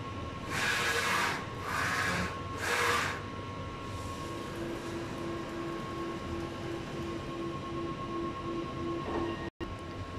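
A large-format sublimation printer runs a nozzle test, giving three whooshing head passes followed by a steady mechanical hum, a soft repeating whine and a faint click near the end. Nobody speaks.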